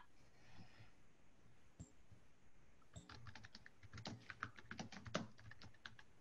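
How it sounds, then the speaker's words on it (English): Someone types on a computer keyboard, starting with a few isolated taps and then moving into a quick run of soft, close keystrokes. "She's typing."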